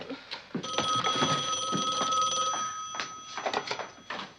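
An old-fashioned telephone bell rings alone in a sitcom living-room scene, one long continuous metallic trill followed by a few shorter bursts.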